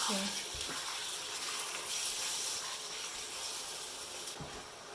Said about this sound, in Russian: И теперь налила чуть-чуть масла и нужно обжарить печень